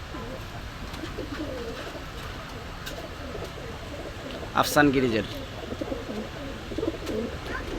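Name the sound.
Pakistani racer pigeons cooing at a shop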